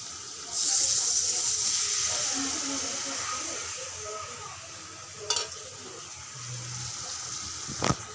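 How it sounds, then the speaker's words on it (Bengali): Water poured into spice paste frying in a pan while cooking a fish dish, a soft steady hiss and sizzle that fades over several seconds, with a couple of sharp clicks from the pot near the end. "পানি দিয়ে দেবো, নয়তো মশলাটা পুড়ে যাবে।"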